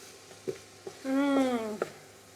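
Brief stirring scrapes in a pan while jambalaya ingredients of chicken, chorizo and shrimp toast dry, with a soft sizzle and a short rising tonal squeak between a few light knocks of the spoon.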